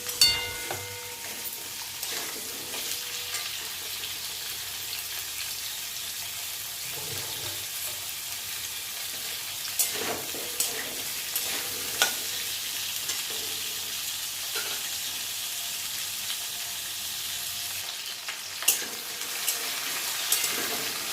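Potato pieces fry in oil in a home kitchen pan, a loud continuous sizzle with periodic scraping and knocks from a spatula turning them, close and without talk.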